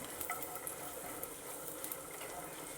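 Chopped, pitted dates stirred in a hot pan with a spoon, a soft continuous sizzle with light scraping clicks, faint and close, no talk.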